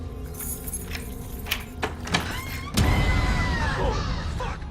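Keys jangle in a tense horror film scene, a few light metallic rattles over a low background rumble before a louder burst of noise and a scream-like cry toward the end.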